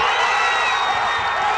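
A crowd cheers in Rio de Janeiro after Brazil won the Olympic bid, a loud, continuous roar of voices and whoops sustained throughout.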